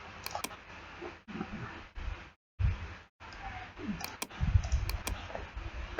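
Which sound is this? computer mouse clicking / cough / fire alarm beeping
computer mouse clicking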